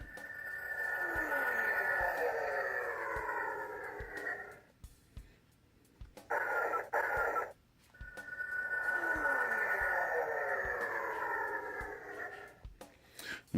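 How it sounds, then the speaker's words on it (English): Star Wars Episode 1 Naboo Fighter toy plays its electronic flight effects: two long whooshing engine swells with a short burst between them, loud and close, over a steady low hum and faint ticking. "you get flight sound effects"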